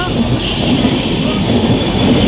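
A train rumbles loudly and continuously nearby, a dense roar of rolling wheels with a faint high whine near the end.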